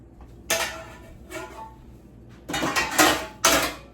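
Metal cake pans handled in a home kitchen, a series of clanking and scraping knocks as pans are moved and set down, close and fairly loud with no talking.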